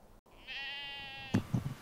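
A single sheep in Iceland lets out one long, wavering bleat, near and clear, followed by a few brief soft thumps.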